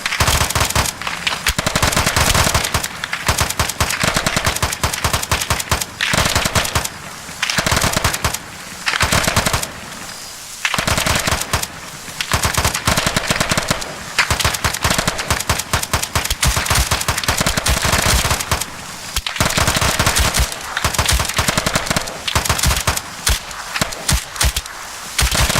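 Dense gunfire pours onto a house in ARMA 3, with rapid automatic bursts and sharp single cracks going on almost nonstop, loud and close, broken only by brief gaps.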